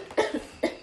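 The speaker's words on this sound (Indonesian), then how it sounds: "Batuk." Two short coughs from a woman, close and fairly loud, the first a double burst followed about half a second later by a single sharp cough.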